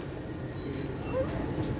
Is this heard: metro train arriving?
yes